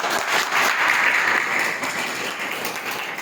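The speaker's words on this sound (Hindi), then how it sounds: "आपके खुद के लिए जोरदार ताली" Loud, sustained applause from an audience at a job and opportunities event for the unemployed in Petlawad, Jhabua, filling the hall as a dense, steady wash of clapping.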